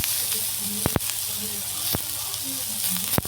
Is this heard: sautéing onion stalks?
yes